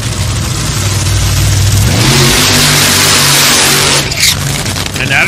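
Top Fuel dragster engines at a drag racing qualifying round in New England, with Tony Schumacher and Smax Smith paired, roar loud and continuous, rising in pitch as they rev before dropping off near the end.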